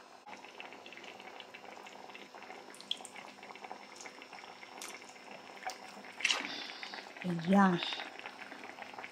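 Adobo squid simmers in a pot, giving off a steady low bubbling and hiss close by. A voice speaks briefly over it near the end.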